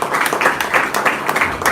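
A short, loud burst of close audience clapping at a seminar, with rapid irregular claps filling the whole moment.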